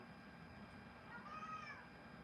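A cat meows once, faint and drawn out, with a rising-then-falling whine indoors over a low steady background hum.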